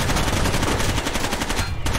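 Rapid automatic gunfire in the Rainbow Six: Vegas video game, a loud, continuous burst of shots with a brief dip near the end, filling the whole short stretch without talk.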